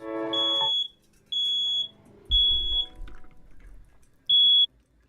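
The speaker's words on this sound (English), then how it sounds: "I had to take the smoke detector down and put it in the bathroom." A smoke detector sounds four sharp, loud, high-pitched beeps at uneven gaps, with a brief rumble and faint room noise in between.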